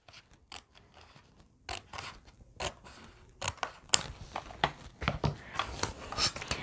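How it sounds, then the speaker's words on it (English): Scissors snip through paper repeatedly at close range, crisp cutting sounds coming in an irregular rhythm that grows busier toward the end. "I'm going to cut it right along the line with my scissors."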